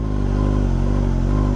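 A Kawasaki ZX-6R motorcycle engine hums steadily while riding, a close, loud, even drone with no throttle surge and no talking.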